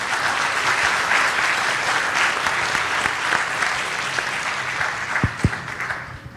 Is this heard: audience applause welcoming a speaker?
yes